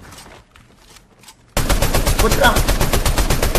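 Rapid automatic gunfire in the video game Fortnite, a loud, evenly spaced burst of shots that starts abruptly midway and runs to the end, following a brief spoken phrase and fainter distant shots.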